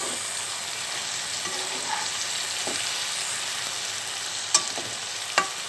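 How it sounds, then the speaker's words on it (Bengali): Bitter gourd (karela) sizzles steadily as it is stirred while frying in a pan, a continuous hiss with a couple of sharp utensil clinks near the end. "নেড়ে চেড়ে দিচ্ছি, কিছুটা সিদ্ধ হয়ে আসুক।"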